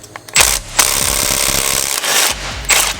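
An air-driven tool spins a 1/2-inch 12-point deep well socket on a 3/8 drive with a swivel extension, loosening bolts in loud, close rattling bursts separated by short pauses.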